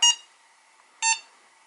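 Two short electronic beeps about a second apart, high and clear, with quiet in between, from a Hobbymate Speed H6 battery charger.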